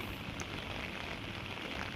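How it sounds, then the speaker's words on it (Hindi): Steady rain falls in a forest during a night of camping, a faint, even hiss with no breaks and no voices. "बारिश लगातार गिर रही थी, लेकिन उस बारिश की आवाज़ बहुत प्यारी लग रही थी"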